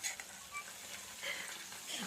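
Ginger paste frying in a pan for a prawn pickle, a soft steady sizzle with faint stirring scrapes, close but quiet throughout.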